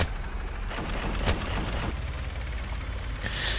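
Missiles launch from a BMPT Terminator tank in the Roblox game War Tycoon, a dense, loud roar of blasts and booms with one sharp crack standing out, continuous throughout with no talking.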